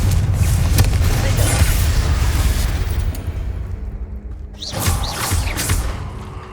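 Confringo blasting spell exploding in Hogwarts Legacy, a heavy booming burst with low rumble that rolls on for several seconds, followed by softer crackling debris and a second lighter flare near the end.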